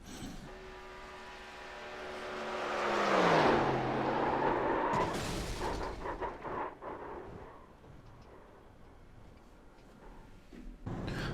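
A crash in iRacing involving a 1987 NASCAR Monte Carlo or Thunderbird stock car: a rising roar of engine and scraping builds into a loud hit, then rattling debris and tumbling noise fade away.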